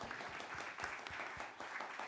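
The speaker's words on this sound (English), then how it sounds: "A round of applause for that." An audience at a public talk on adaptive reuse of sites of memory in Philadelphia claps steadily, a dense, even patter of many hands at moderate distance with little else over it.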